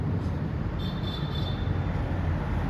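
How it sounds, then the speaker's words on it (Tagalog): An LRT light-rail train rumbles past near the Pasig River, a steady low roar with a faint high whine that holds throughout the short stretch, no voices over it. "So, dumaan na naman yung LRT oh."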